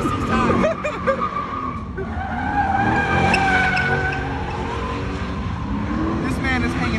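Ram 1500 pickup truck doing burnouts, tires squealing steadily at close range with engine roar throughout, crowd voices mixed in underneath.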